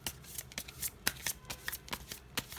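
Tarot cards are shuffled by hand at close range, a quick series of soft papery riffles and flicks in uneven bursts, quiet and alone.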